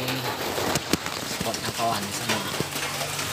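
Rain falls steadily on a surface near a lakeside rice field, a constant broadband patter running throughout while someone talks over it.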